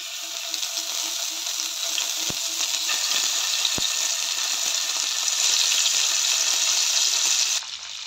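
Paneer pieces sizzle steadily in hot oil in a kadai on a gas flame, a continuous close hiss with a couple of faint taps, easing slightly at the very end.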